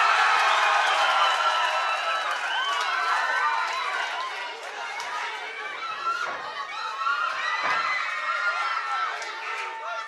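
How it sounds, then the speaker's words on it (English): A boxing crowd at a Sheffield fight night cheers on its feet, a dense, continuous roar of many voices, whistles and shouts filling the arena. "they're all just up on the feet. All cheering for Ladislav."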